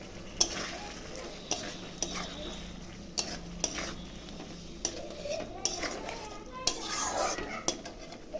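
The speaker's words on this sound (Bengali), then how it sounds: "মশলা কষানোর মধ্যে 2 টুকরো টমেটো দিয়ে দিচ্ছি" Spice paste frying in a pan with two pieces of tomato added, a steady close sizzle broken by repeated sharp clinks and scrapes of a spoon against the pan, with faint voices underneath.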